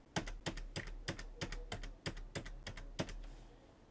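Ten crisp key presses on a computer keyboard come at an even pace of roughly three per second, each a sharp, close click over a faint low hum.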